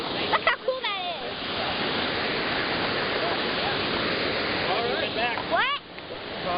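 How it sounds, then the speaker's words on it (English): High Falls, a large waterfall, roars as a broad, steady wash of rushing water close by, with brief voices talking over the start and end. "Look at all that big waterfall."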